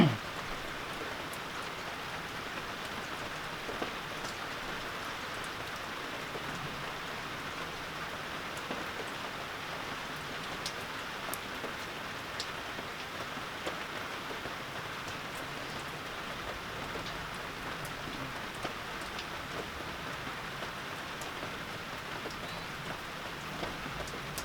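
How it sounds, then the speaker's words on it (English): Steady rain falling on and around a porch, a soft continuous patter with scattered individual drops, fairly quiet and even throughout with no voices. "So it's pretty peaceful in the rain. I can hear the rain"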